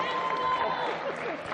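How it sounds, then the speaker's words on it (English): A sports crowd at a Darwin football semifinal applauds a substituted player coming off, a faint, steady patter of clapping beneath a commentator's voice. "Round of applause coming off"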